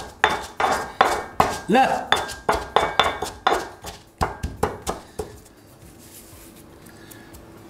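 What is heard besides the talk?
crushing green peppercorns with a pestle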